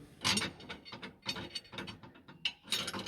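A ratchet loosening a bolt on the bash plate under the tray of a GR Yaris, with a series of close, rapid clicking bursts in an uneven rhythm and no talking.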